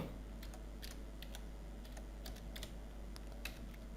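Typing on a computer keyboard while entering data into an Excel invoice, soft scattered key clicks in short irregular bursts over a steady low hum, fairly faint.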